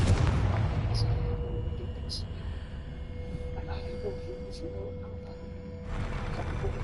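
A Confringo fire spell exploding in Hogwarts Legacy, a heavy burst at the start that fades into a long low rumble, with a second swell near the end.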